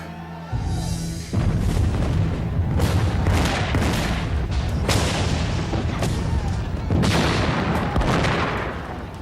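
Heavy artillery booms repeatedly through a siege bombardment of an American garrison, deep blasts rolling over continuous rumble and crackle.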